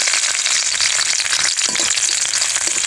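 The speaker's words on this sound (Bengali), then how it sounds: "রসুনের কোয়াগুলো ভেজে নেব হালকা করে, সাথে পেঁয়াজগুলো ভেজে নেব।" Garlic cloves and onions fry in hot oil with a steady, loud, dense sizzle that holds evenly throughout, no voices present.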